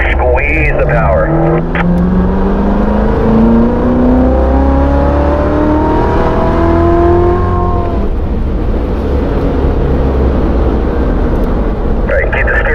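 A race car accelerates hard around a track at the Ron Fellows Performance Driving School at Spring Mountain Motorsports, its engine loud and close with rising revs that drop at a shift and climb again, under an instructor's continuous coaching voice.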